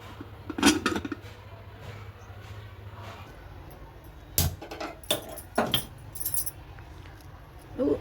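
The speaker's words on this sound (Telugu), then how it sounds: "ఇప్పుడు మూత పెట్టేస్తున్నానండి" A lid is set onto a cooking pot for plain tomato dal, giving a few sharp metallic clinks and clatters spread through the clip over a faint low hum, with no talking.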